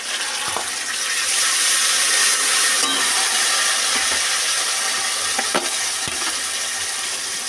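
Onion and garlic fry in hot oil as mustard paste goes in, a loud, steady close-up sizzle with scattered spatula scrapes and taps throughout.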